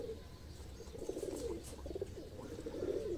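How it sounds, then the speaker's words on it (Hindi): Soft, repeated cooing from a high-flyer racing pigeon held close at hand, a steady murmuring series of low coos that stays fairly quiet with no talk over it. "जानदार कबूतर है जी"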